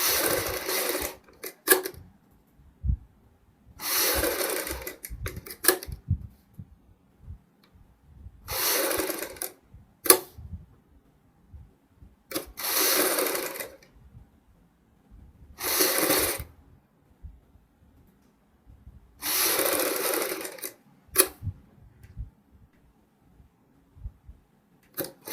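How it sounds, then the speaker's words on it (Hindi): A sewing machine stitches along one side of a child's fancy dress in repeated runs of a few seconds each, with quiet pauses between bursts as the fabric is repositioned. "एक साइड से सिलाई लगाते हुए इस सिलाई को कंप्लीट करेंगे"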